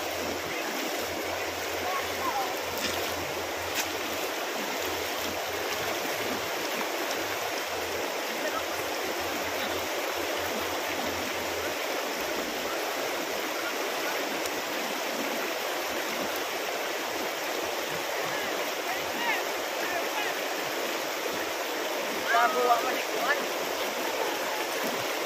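Shallow river water rushes and streams steadily over a crossing, a constant broadband flow that holds through the whole stretch, with faint voices at times beneath it.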